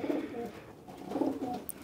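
Pigeons cooing in a loft, two soft low rolling coos, one after the other, close and fairly quiet.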